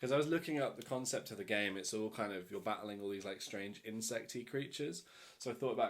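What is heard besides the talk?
None of the usual background noises is heard.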